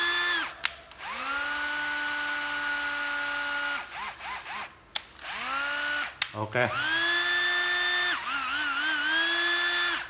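A cordless drill whirs at high speed, stops, then runs again at a lower pitch, with several revving starts and stops and brief clicks between runs. A voice speaks briefly.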